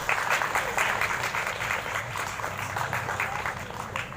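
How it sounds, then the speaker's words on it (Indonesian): A crowd of students and teachers at a school Independence Day ceremony applauds, a dense continuous patter of many hands clapping, steady and fairly loud throughout, with no clear speech over it. "Tepuk tangan juga untuk kalian."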